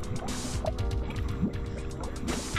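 Water in the Gorilla Tag volcano update, a busy liquid sloshing and dripping texture with gurgles and small splashes running steadily throughout, fairly close and continuous with no talking.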